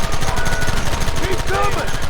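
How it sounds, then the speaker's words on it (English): Gunfire in the Red Dead Redemption video game, a loud continuous rattle of rapid shots filling the whole moment, with shouting voices mixed in. "There they are! Open fire!"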